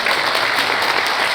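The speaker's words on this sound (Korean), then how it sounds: "그때 박수 치시는 겁니다." Congregation applause at a Korean church memorial service for the Korean War anniversary, a brief burst of loud, dense clapping from many hands.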